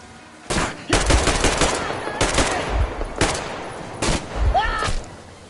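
Automatic gunfire in the Metro Exodus video game: several loud, close bursts of machine-gun fire repeat about once a second, with short gaps between bursts.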